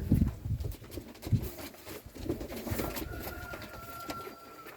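Czech yellow pigeons being released into a new loft, soft cooing and fluttering close by, mixed with scuffling and clattering knocks, fairly quiet and without talk.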